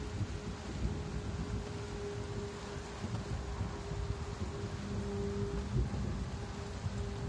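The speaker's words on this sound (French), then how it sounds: "Et il arrive le tonnerre." A summer thunderstorm with steady rain and low rumbling thunder, continuous and moderately loud, with wind noise mixed in and no speech.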